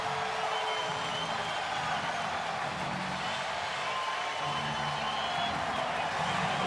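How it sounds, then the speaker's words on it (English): A baseball crowd at Atlanta's home game against the New York Mets roars for Chipper, a steady wash of cheering from a large stadium audience that holds at an even level throughout, with no talking on top. "And a big cheer for Chipper."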